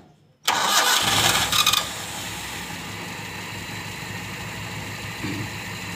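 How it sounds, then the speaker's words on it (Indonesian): After a brief silence, the starter of a Toyota Kijang car cranks loudly for over a second before the engine catches and settles into a steady, lower idle. "Starter coba."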